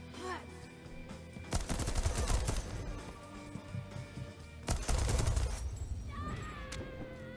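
Gunfire in the video game Deathloop, with two loud bursts of rapid shots and sharp cracks separated by a calmer stretch of game ambience, close and dominant.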